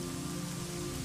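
Steady rain pattering on a surface, a dense, even hiss of drops that continues unbroken throughout.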